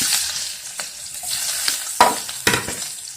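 Shallots dropped into hot oil with popped mustard seeds, a loud close sizzle with sharp crackles and sputters, several louder bursts as they are stirred, no talking.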